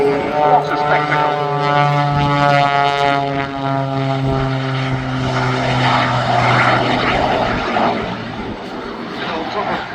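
A jet-assisted Pitts aerobatic biplane performs a flying display at an air show, its engine a loud, sustained drone with strong steady tones that shift slightly in pitch as it hovers and manoeuvres close by.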